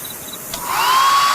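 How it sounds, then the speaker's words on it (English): A hair dryer whirs up from quiet to a steady, loud blowing hum with a high whine, running continuously close by after a brief click. "It's my hairdryer."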